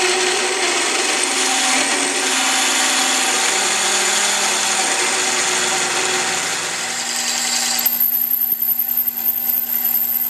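Loud, steady machining noise from a lathe drilling a metal workpiece continuously, with a whining grind that drops off near the end, leaving a quieter hum and clicks.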